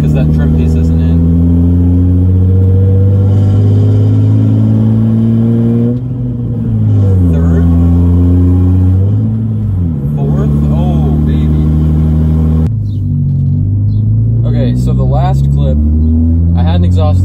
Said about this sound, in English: I got a lot of road noise.